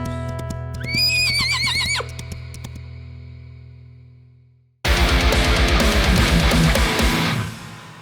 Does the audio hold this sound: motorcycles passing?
no